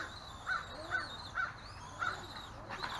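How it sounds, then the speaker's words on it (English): Harsh, agitated caws from a crow-like bird overhead, about five calls spaced roughly half a second apart, moderately loud over faint outdoor background, no talking. "Boy, there's a bird above us. It's not too happy."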